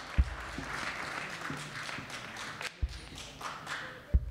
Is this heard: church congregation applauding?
yes